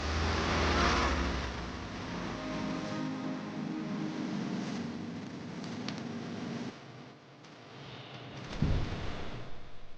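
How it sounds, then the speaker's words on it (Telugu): A car drives along a road and comes up from behind, its engine humming steadily with a brief dip and a louder surge near the end, and rustling in the background. "అరే కారు వెనకొస్తుంది."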